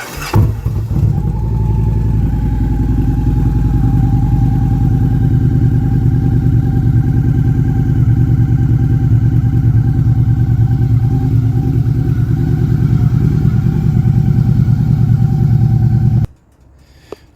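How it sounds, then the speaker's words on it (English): A motorcycle engine idles steadily for a long stretch while fuel stabilizer circulates, a loud, close, even rumble that cuts off abruptly near the end. "the motorcycle ran for about 5 minutes"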